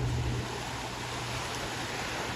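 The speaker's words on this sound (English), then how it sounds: "I love the sound of the waves too." Continuous wash of waves and surf in a New York City harbor, steady and moderately loud, with a low rumble at the start and no voices.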